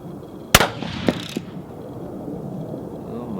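.308 Winchester rifle shots from a Savage 10FP on a 100-yard range: one sharp, loud report followed by a couple of fainter, shorter cracks, then quiet outdoor background.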